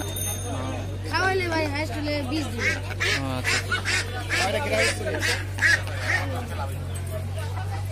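Native domestic ducks quack repeatedly at a village market, close and lively in uneven bursts over a steady low hum, with people talking among the calls.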